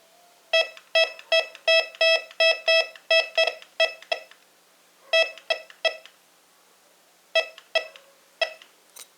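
A Bounty Hunter Tracker IV metal detector emits sharp electronic beeps in quick rhythmic bursts, pausing briefly between groups, with no talking.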